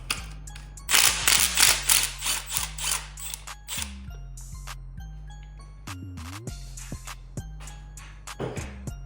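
A ratchet works a bolt loose on a Mercedes-Benz engine during a teardown, with rapid close clicks and metallic knocks coming in short irregular bursts and no talking.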